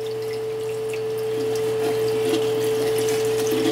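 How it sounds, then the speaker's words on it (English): Water trickling slowly into lye in a kettle, a steady soft pouring wash over a constant low hum, continuous and fairly close throughout. "when we add this water to the lye"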